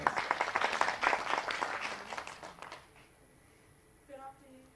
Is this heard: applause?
yes